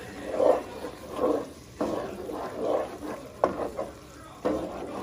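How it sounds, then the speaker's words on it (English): Cooked vegetables mixed back into a mango rice mixture, with close, rhythmic stirring strokes and soft sizzling in a pan, a few sharper scrapes of the spoon between sweeps. "you're gonna add back the actual vegetables to the actual mix right there. And you just mix it all in."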